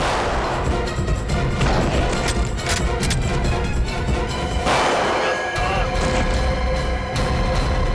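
Loud bursts of gunfire and crashing impacts over a dense, dramatic music bed in a CID TV crime drama, with a heavy boom near the middle.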